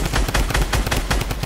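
Rapid bursts of automatic gunfire in a Fortnite tournament match, a dense rattling volley of close shots filling the whole moment without voices.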